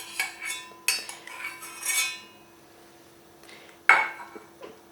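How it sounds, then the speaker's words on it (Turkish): A metal spoon scrapes and clinks against a dish while skimming melted butter for flaky puff-pastry poğaça, in a few bright, separate bursts with quiet gaps between them. "Sadece üzerinde toplanan yağı alıyorum şöyle kaşığımla"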